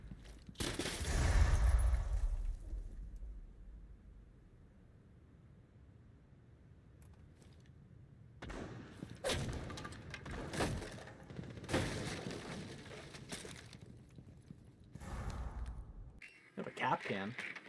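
Video-game gunfire erupts in a loud burst at the start and then returns in scattered shots and bursts later, while people talk throughout.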